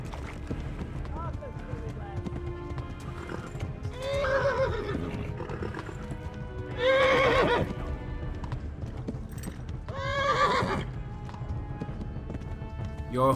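Horse hooves clip-clopping at speed along a road in the medieval game Kingdom Come: Deliverance, with three loud whinnying neighs rising over the running rhythm, and a voice talking underneath.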